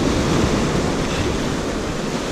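Ocean surf breaks on the shore at Martin's Beach as the tide comes in, a loud continuous wash of water and wind noise close to the microphone, with no voices.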